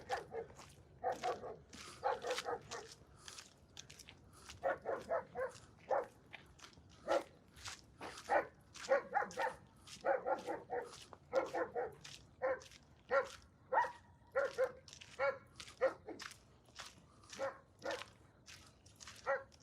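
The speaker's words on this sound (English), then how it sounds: "The dogs are not very nice, are they?" Several dogs bark repeatedly at a distance during a beginner mountain bike ride on a trail, with bursts of barks and yips coming in irregular clusters over steady outdoor background.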